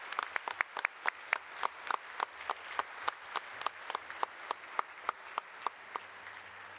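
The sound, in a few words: audience applause for scholars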